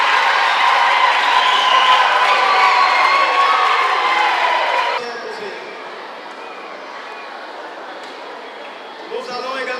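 Audience in a church thanksgiving service applauding and cheering loudly for about five seconds, then the clapping drops to a quieter murmur of crowd noise with scattered voices.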